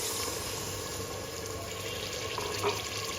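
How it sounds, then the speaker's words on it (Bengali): Water poured into a pot of fried spices for tripe curry, a steady close wash of splashing and hiss lasting a few seconds, with no voices. "যে পরিমাণ মতো পানি দিয়ে দিলাম।"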